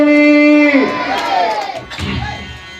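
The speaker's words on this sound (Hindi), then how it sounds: "ताली बजा के बढ़िया बोलिए, बोल श्री रामचंद्र की।" A crowd at a village Ramayana recital cheers in a loud, brief chant answering the call to praise Shri Ramchandra. A sustained sung or shouted tone breaks into mixed voices and faint clapping.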